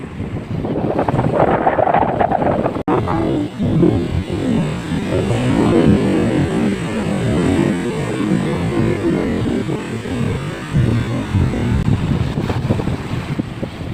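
Steady rushing surf on a beach with heavy wind buffeting the microphone, a continuous close, loud wash of noise.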